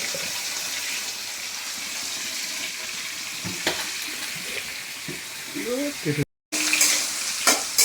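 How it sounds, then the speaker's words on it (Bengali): Fish sizzles steadily in hot oil in a home kitchen, a dense, continuous crackling hiss close by, with a few stirring knocks, a short break near the end and brief voice sounds. "মাছ ভাজা হচ্ছে"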